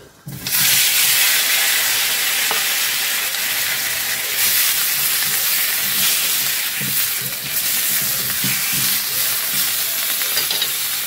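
Tomatoes for a tomato chutney hit a hot pan and burst into a loud, continuous sizzle that carries on steadily, with faint scraping from stirring underneath.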